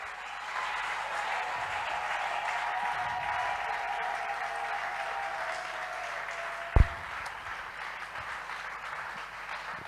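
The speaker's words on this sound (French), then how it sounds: "Est-ce qu'on peut acclamer pour Jésus?" A church congregation applauds and cheers at a worship service, a sustained wash of clapping from a large crowd that stays fairly even throughout, with one sharp thump near the end.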